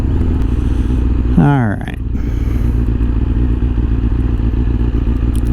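A Kawasaki ZZR600 motorcycle engine idles and runs steadily throughout, with a brief rising rev around the middle, while someone speaks a word over it.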